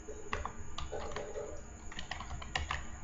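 Keys clack on a computer keyboard as an Excel formula is entered, a quick irregular run of close, crisp keystrokes with brief pauses between clusters.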